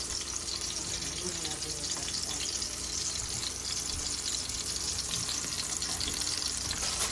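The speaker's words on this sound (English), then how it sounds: "I think this one could just fry a little bit more on this side." Chicken burger patty frying in a pan, giving a steady, close sizzle and crackle that runs unbroken throughout with no pauses.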